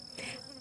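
A bee buzzes near a beehive, one steady drone rising briefly louder, then continuing close and fairly loud with no one speaking.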